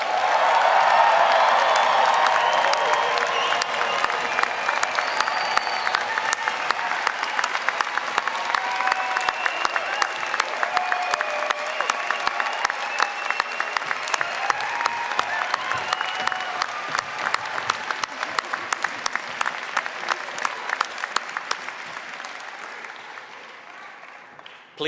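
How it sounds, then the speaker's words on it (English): A large crowd at a spring convocation applauds the graduating class of 2024, sustained dense clapping that starts loud and slowly thins toward the end. "One more round of applause for our graduating class of"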